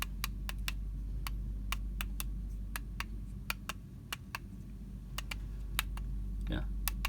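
Fingers type on the small built-in keyboard of a Raspberry Pi 4 handheld, giving a steady run of sharp, close key clicks at an irregular quick pace over a constant low electrical hum.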